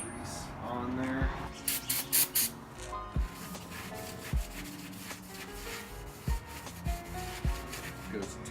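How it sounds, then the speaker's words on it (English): A rag rubs over an Audi A4 B5 clutch pressure plate with brake cleaner, making repeated scrubbing and squeaking strokes in an uneven rhythm, close and moderately loud. "you should wipe them off with some brake cleaning stuff, just in case they've got grease on there."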